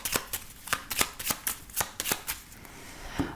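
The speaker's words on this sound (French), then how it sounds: "on va voir ce que nous dit le jeu de 32. Alors, on va faire le tirage." A 32-card playing deck is shuffled by hand in a series of about eight quick riffling bursts, each a crisp papery flutter, heard close and alone.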